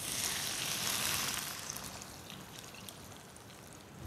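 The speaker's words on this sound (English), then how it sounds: "now we'll add plain simple water" Plain water pours into a cooking pot of vegetables for stewed rice, a louder splashing stream at first that settles into a softer steady trickle and fizz.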